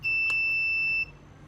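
The alarm on an Arduino smart door lock sounds as one steady, piercing electronic beep of about a second, close and loud, then cuts off and leaves faint room noise.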